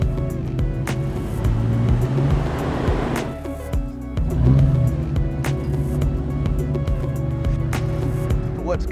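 Off-road vehicle rock crawling on the Moab Rim trail, with a steady low engine rumble and crunching, scraping tyres over rock, plus occasional knocks and thumps; the close engine noise stays fairly constant throughout.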